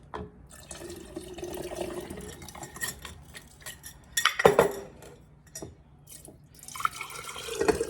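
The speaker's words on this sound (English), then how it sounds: "I'm gonna add this water actually to this to rinse the rest of this out." Water added to rinse out a container while making fermented sweet potato kvass, with splashing, dripping and clinking of dishes and utensils, close and fairly quiet throughout.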